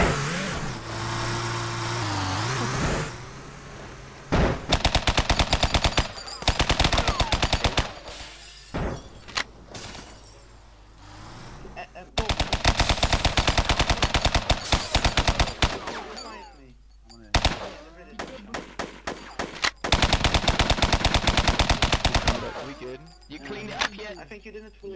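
Loud bursts of automatic gunfire in a video game shootout at a gas station, several long volleys separated by brief lulls, with engine noise and voices between the bursts.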